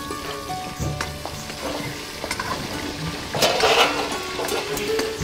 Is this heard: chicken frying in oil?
yes